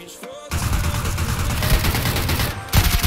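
Dense, sustained gunfire from PUBG Lite fills the clip, with rapid overlapping shots and booms after a brief quieter opening, loud and continuous, with a short dip near the end before firing resumes.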